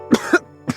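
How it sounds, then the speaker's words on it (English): A young male character in a visual novel video game coughs three times in quick succession, close and fairly loud, with rough throaty bursts and no talk. "Almost immediately, he started coughing."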